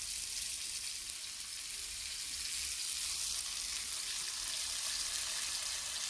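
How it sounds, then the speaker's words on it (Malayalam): Fish coated in spice paste fries in boiling coconut oil, giving a steady, close, hissing sizzle with crackle throughout and no voices. "ഓരോന്ന് നമുക്ക് അരപ്പ് ചേർത്ത് ഈ തിളച്ച വെളിച്ചെണ്ണയ്ക്കകത്തേക്ക് ഇട്ട് കൊടുക്കാം"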